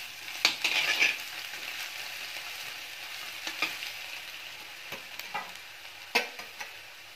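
Garlic and coconut slices frying in a pan for Khandeshi bharit give a steady hiss of oil, broken by a few soft scrapes and taps of a spoon stirring. The sounds are close and moderate in level, with no voices.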